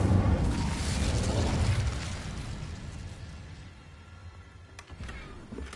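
The Incendio fire spell in Hogwarts Legacy erupts as a loud whooshing, roaring blast that slowly fades over several seconds into a quieter crackling tail.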